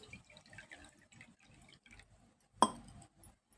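Water poured from a cup into a bowl of rava and curd, a short soft splash with a brief louder gush near the end, faint and close, with no talking.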